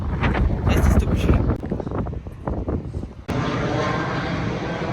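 Strong wind gusting across the microphone in Nantes, a loud steady roar that comes through under talk for the first three seconds, then continues as broad rushing noise to the end.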